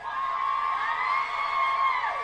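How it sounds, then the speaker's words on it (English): A crowd at an abortion-rights rally cheers and whoops loudly, a sustained roar of many voices lasting a couple of seconds. "Listen to them cheer her on."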